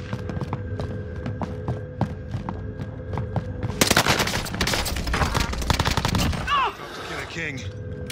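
Rapid bursts of gunfire in the Call of Duty Caldera resurgence mode, starting after a few seconds of sparse clicks and hum, then a dense run of close shots with background game sounds.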